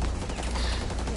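Dense, continuous gunfire in a Rainbow Six Siege match, a loud rapid fusillade of shots filling the short stretch with no pause.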